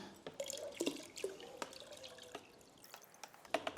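Water drips and splashes as an item is rinsed in a container while mixing a hydroponic nutrient solution, giving scattered close plinks and small sloshes without talk.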